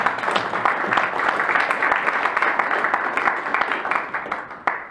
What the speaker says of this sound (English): we want to have a big round of applause for the welcome